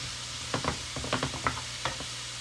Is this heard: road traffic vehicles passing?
no